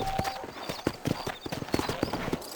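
Horse hooves clip-clop in an irregular gallop on a dirt road in the Red Dead Redemption video game, close and fairly loud, with a few snorts and tack jingles.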